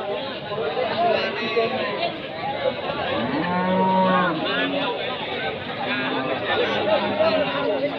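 Cattle lowing repeatedly amid the busy Pasar Wage livestock market in Pati, Indonesia, where rows of young beef cattle, including Limousin crosses, stand, several moos rising over constant crowd chatter and people talking nearby.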